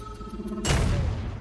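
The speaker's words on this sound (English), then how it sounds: "And it makes an explosion." A White Star explosion in Rogue Legacy 2 goes off after a brief stretch of game music, a sudden loud burst that booms and then fades into a sustained crackling roar.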